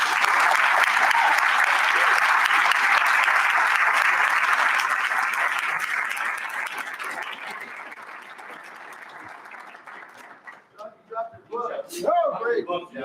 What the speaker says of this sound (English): John, we want to offer you a round of applause and invite you to the podium.